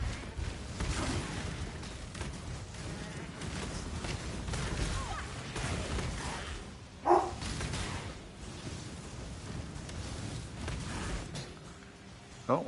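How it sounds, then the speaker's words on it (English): Summoned minion dogs in Path of Exile bark in scattered yaps over a busy wash of game sound, with one sharper bark standing out near the middle and another at the end. "Oh, my doggies are barking."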